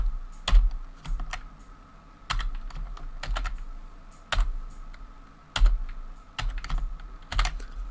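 A password is being typed on a computer keyboard while setting up Pi-hole, with bursts of close, crisp key clicks separated by short pauses and several louder strikes, likely the enter or space key.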